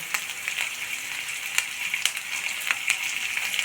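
Capsicum sautéing in a pan for a mint-coriander masala, a steady close sizzle with a few soft sharper crackles and stirring clicks, no talk.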